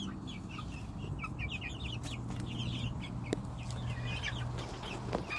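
A solid black frizzled Polish chicken clucks softly and repeatedly in a coop. Its short, soft clucks come close and steady over a low hum, with other hens murmuring nearby.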